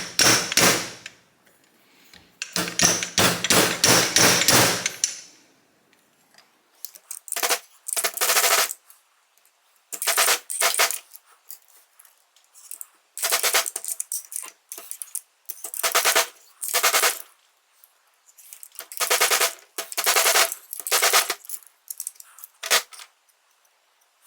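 Seal driver hammered to install an engine seal on a 2005 Kawasaki KX65, loud metallic blows in rapid bursts, a long flurry at first and then several shorter clusters separated by pauses.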